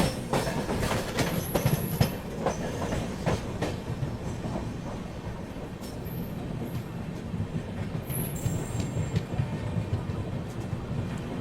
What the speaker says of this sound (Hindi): फिलहाल टुंडला रेलवे स्टेशन में अपना अराइवल हो रहा है।